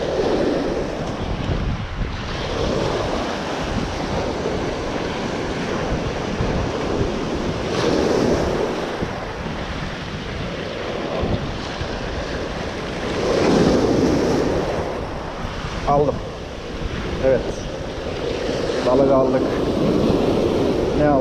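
Steady wind rushing at the shore with surf breaking in the background, a continuous blustery roar that swells and eases.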